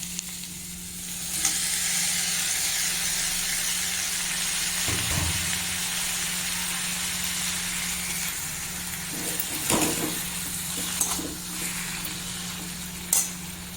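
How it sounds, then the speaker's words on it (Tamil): Tomatoes and onions sauté in a pan for a guava chutney, a steady close sizzle running throughout with a few faint stirring knocks and no speech. "ஒரு 3-5 நிமிஷம் வரை நல்லா தக்காளி, வெங்காயம் எல்லாமே நல்லா வதக்கிக்குங்க."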